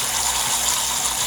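An aquarium pump pushes water around a tank with the water level lowered, giving a steady, close, hissing rush of flowing water with no pauses.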